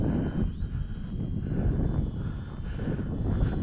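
An Arrows RC Trekker model plane, a small four-channel trainer with landing gear, drones steadily in flight after a hand launch, its motor buzz continuous and fairly loud against outdoor wind noise.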